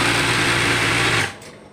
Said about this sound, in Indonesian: Tapi kalau saya lebih suka zigzag ya, karena pesenannya rata-rata orang pengennya dijahitnya itu di zigzag ya.